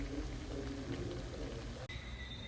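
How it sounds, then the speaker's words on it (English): A pot of water with chicken breast boils steadily, a dense continuous bubbling and simmering hiss that fills the whole stretch at close range. "It already started bubbling there."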